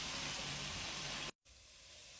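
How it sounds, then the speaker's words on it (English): Food frying in a pan over low heat for a chicken curry sauce, a soft, even sizzling hiss that cuts out briefly and then returns quieter. "So this is frying under a very low heat."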